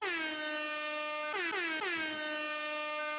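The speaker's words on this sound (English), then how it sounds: "Quote of Hit the horn." A loud air horn blasts once in a long sustained tone, then gives two quick short honks close together, close and piercing.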